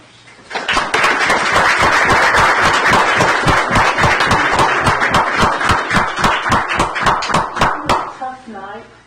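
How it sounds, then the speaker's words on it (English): An audience at a commissioners court meeting claps for about seven seconds, a loud, even patter of many hands that fades out, and then a voice begins speaking. "So we owe them a big round of applause and thanks."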